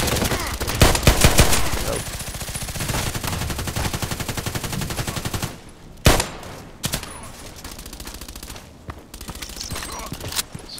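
Rapid rattling bursts of gunfire in the Contract Wars video game, a dense stream of shots that runs for several seconds and then breaks into scattered single loud cracks at a mid distance, with no talk.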